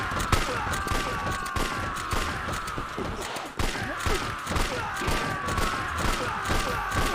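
Rapid volleys of gunshots ring out in a Yakuza 3 shooting sequence, dense repeated cracks over a constant busy backdrop of game noise and music, with a brief dip midway before the firing resumes.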